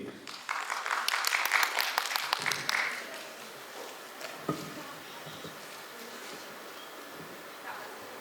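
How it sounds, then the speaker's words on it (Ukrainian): Audience applause for a singer after a cover of a song on a Ukrainian talent show: a burst of clapping in the first few seconds that fades into a quieter room hum with scattered faint sounds. "ваші оплески!"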